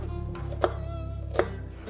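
A knife chops onion into small cubes on a board for manti filling, two sharp close chops standing out over a steady low background hum.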